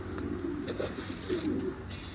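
A domestic pigeon coos up close in soft, throaty, rolling phrases, repeated in short bursts over a steady low background hum.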